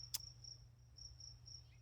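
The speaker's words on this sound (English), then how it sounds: "there's a very loud cricket back there" A loud cricket chirps steadily in the background, a sustained high trill pulsing through the whole stretch over a low hum, with one sharp click near the start and no voices.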